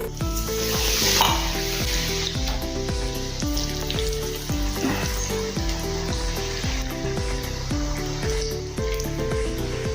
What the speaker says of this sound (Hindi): ये देखिए अभी हम तेल में डालेंगे अपने।